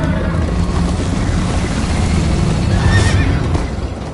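A horse whinnies in a Minecraft Story Mode scene, amid a dense wash of noise and rumbling hoofbeats, loud and close.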